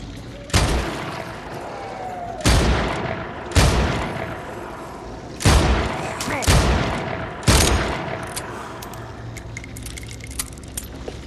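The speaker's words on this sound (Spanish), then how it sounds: "Seis disparos, chavales." Six loud gunshots from a firearm in the Dead Island 2 video game on PS5, fired at irregular intervals, each a sharp crack with a short decaying tail.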